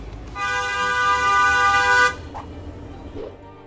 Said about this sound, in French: le klaxon d'une voiture a environ 90 décibels